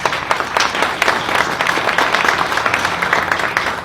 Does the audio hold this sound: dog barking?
no